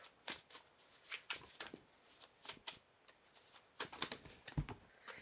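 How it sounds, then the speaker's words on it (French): Tarot cards being shuffled and drawn in a reading, a series of quick papery riffles and slaps with a sharper snap near the end, close and moderately quiet with no talking. "Donc, je vais prendre une carte sur vous."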